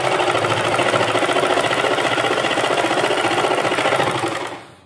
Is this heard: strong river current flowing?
no